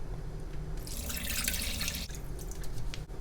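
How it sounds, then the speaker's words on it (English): Water pours from a tap into a pot holding pork belly for Chinese-style braising, a steady splashing stream that swells loud and bright midway, then runs on with a lighter trickle, no voices. "add enough water to cover the pork"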